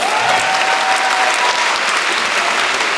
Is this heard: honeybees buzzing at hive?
no